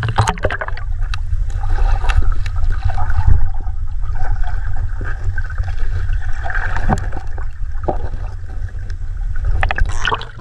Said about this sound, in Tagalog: Papunta sa dagat yung tubig.